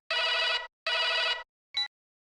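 A telephone rings indoors, two long electronic bursts followed by a short clipped third ring in otherwise quiet surroundings, with no speech.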